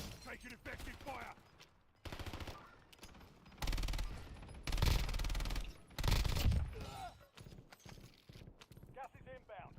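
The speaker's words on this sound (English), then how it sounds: "Taking effective fire!" Gunfire in a video game bursts out in loud, dense volleys, rapid automatic fire in several separate blasts with quiet gaps between, while voices call out between and over the shots.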